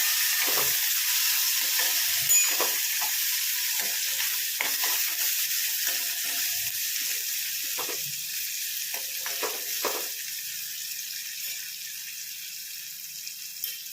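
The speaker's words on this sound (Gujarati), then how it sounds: "આ ટમેટું છે બધું આપણે નાખીએ આ રીતે હલાવશું" Chopped tomatoes, green chillies and yellow moong dal sizzle and hiss in a hot frying pan as a spoon stirs them with soft scraping knocks, close and steady throughout.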